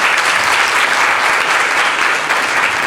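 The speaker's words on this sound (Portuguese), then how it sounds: "Uma salva de palmas." Sustained applause from an audience at a Black Consciousness Day meeting, a steady dense clapping crowd at close range lasting the whole moment with no voices over it.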